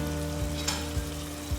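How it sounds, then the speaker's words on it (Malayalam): Onions sauté in hot oil left from frying paneer, with a brief, steady sizzle over a low, humming drone and a few soft bumps. "ഈ എണ്ണയിൽ തന്നെ നമുക്ക് ഉള്ളിയൊക്കെ വഴറ്റാനുള്ളത്."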